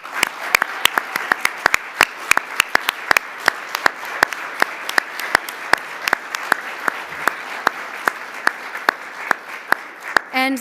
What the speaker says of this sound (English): so we can acknowledge your work with a huge round of applause